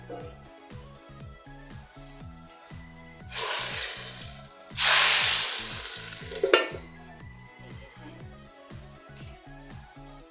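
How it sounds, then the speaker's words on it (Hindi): Hot oil tempering hisses and sizzles loudly in two bursts as it hits a pot of moong masoor lentils, over steady rhythmic background music. "तड़का जी रेडी हो गया, मैं अब इसको डाल देती हूँ दाल में।"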